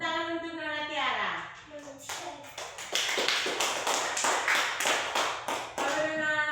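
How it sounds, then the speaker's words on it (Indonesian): Someone speaks briefly, then a classroom of students bursts into brisk, closely spaced clapping for a classmate, the dense patter running on for several seconds near and fairly loud. "Tepuk tangan untuk Nona Tiara."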